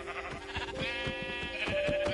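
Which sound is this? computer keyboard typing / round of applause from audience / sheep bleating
sheep bleating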